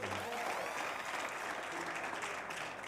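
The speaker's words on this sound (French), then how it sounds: "Et il applaudit. Applaudissez s'il vous plaît." An audience in a hall applauds steadily, a dense wash of clapping that holds at an even level throughout the short stretch.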